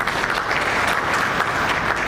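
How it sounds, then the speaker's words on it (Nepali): An audience at a Nepali club presidents' schooling event breaks into loud, sustained applause, dense steady clapping from a crowd with no voices on top. "एकपल्ट जोरदार तालीले सम्मान व्यक्त गर्नु होला"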